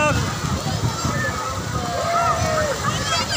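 Artificial waves slosh and splash in a wave pool at a water park, steady watery churning close by, with people talking over it.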